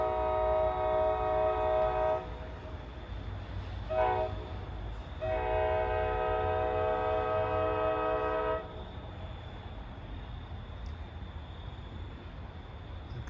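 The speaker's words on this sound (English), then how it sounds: "He's pulling out of Ramsey, blowing for Main Street." NJ Transit diesel commuter train pulling out of Ramsey, sounding its K5LA horn for the Main Street grade crossing: a loud, near, chord-rich long blast, a brief short toot, then another long blast over steady engine rumble.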